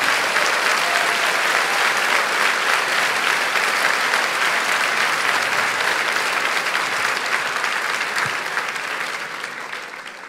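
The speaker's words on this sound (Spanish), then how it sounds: "Dale un aplauso fuerte a Cristo Jesús." A church congregation applauds loudly and steadily, a dense sustained wash of many hands clapping that fades slightly toward the end.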